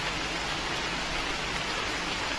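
Heavy monsoon rain pours over Panchmahal district in Gujarat, a steady, dense hiss of water that holds constant and fills the scene for the whole stretch, with no voices.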